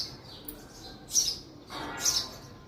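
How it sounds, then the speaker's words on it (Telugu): Birds call in a garden, with a few sharp, loud squawks and chirps standing out against quiet background ambience. "బాగా అరుస్తున్నాయి బర్డ్స్."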